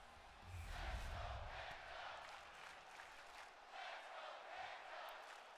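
A wrestling arena crowd in WWE 2K25 roars and chants, a faint, sustained wash of cheering voices with swelling surges and a low thump near the start.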